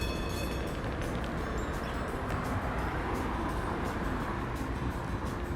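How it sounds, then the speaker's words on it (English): A San Francisco tram rumbles past on a city street, a dense, loud rolling clatter with some metallic ringing at the start, continuous and close. "This is a very famous tram of San Francisco."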